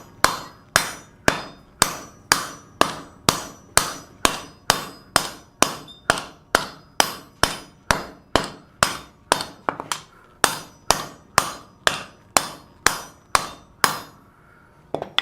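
A small hammer strikes a metal bowl resting on a bowl stake in a steady, evenly spaced series of about thirty close, ringing blows, each sharp clang decaying briefly before the next.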